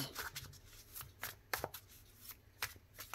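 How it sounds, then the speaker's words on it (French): A deck of oracle cards is stacked and shuffled by hand close up, with a series of quick riffling, flicking bursts in an uneven rhythm, alone without talk. "je t'empile les cartes comme d'habitude"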